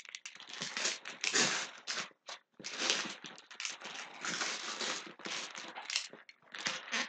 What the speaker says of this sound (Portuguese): Eu vou pegar um estilete aqui para abrir essa caixa